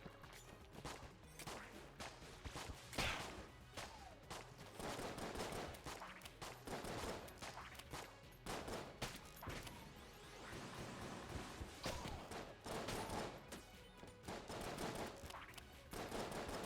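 Rapid bursts of shotgun-like weapon fire from the video game Enter the Gungeon, repeated blasts in quick uneven volleys heard alone at a steady, fairly loud level.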